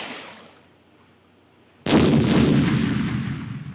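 Explosions in a Philips CD-i video game: after a quiet low rumble, a sudden loud broadband blast hits and sustains as a dense, roaring burst of artillery-like fire.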